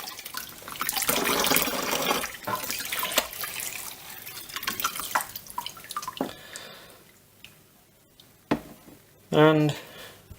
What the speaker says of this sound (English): Give it a rinse under the tap.